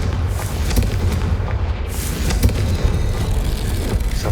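A Confringo fire spell exploding in the Hogwarts Legacy video game, a dense booming blast with rumbling low end that carries on throughout, loud and close with a couple of sharper bursts.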